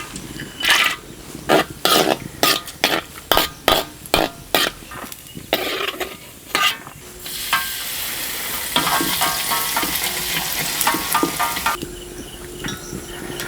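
Cashews and raisins fry in ghee, with sharp repeated scraping strokes from stirring giving way to a steady close sizzle.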